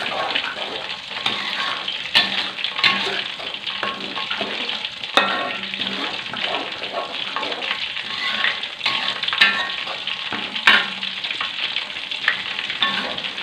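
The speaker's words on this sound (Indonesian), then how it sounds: "terus gaul sampai rata" Chicken in balado chili sauce with granulated sugar being stirred in a frying pan, a steady close sizzle and frying crackle with scraping stir strokes throughout, no talking.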